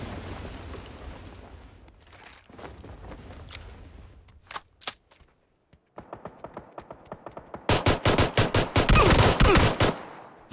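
Shotgun blasts in the PUBG battle royale game: scattered single booming shots, then after a brief silence a fast burst of loud, closely spaced gunfire building into a dense, heavy barrage.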